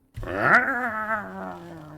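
A human voice imitates a cat's odd growl: one sustained, throaty, rising then falling snarl lasting over a second, close and fairly loud.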